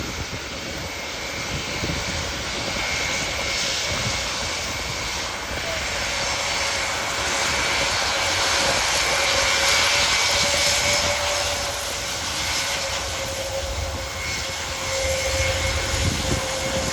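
Two Czech Air Force W3 Sokol helicopters take off at RIAT 2025 airshow, a loud continuous engine and rotor roar that swells slightly midway, heard alongside broad airfield noise.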